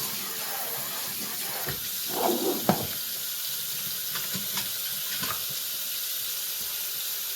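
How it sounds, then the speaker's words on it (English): Tap water runs steadily into a sink as it is rinsed out after washing Jacob sheep wool fleece, a continuous hiss with a few brief splashes and knocks near the start. "I'll go ahead and rinse my sink out"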